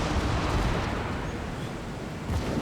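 Defensive gunfire from a warship's secondary guns in a naval video game, heard as a dense continuous barrage of booms and bursts with no talk over it.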